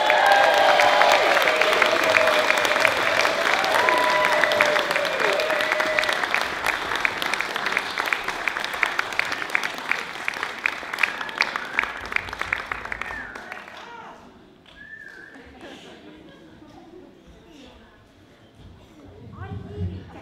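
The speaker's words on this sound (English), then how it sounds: "A big, huge round of applause" Audience applause at the end of an act in a live talent show, dense clapping with cheering over a tonal musical sound in the first half, then thinning and fading out; a voice speaks near the end.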